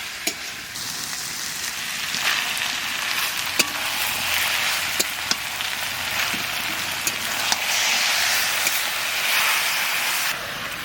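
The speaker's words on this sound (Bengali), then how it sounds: "এবার মাংসটা দিয়ে পেঁয়াজের সাথে মাংসটাকে ভালো করে কষাবো" Mutton sizzles steadily with onions in a pan for a wedding-style curry, a loud continuous hiss with occasional sharp pops and faint stirring, no talking.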